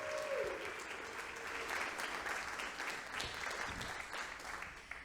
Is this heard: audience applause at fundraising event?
yes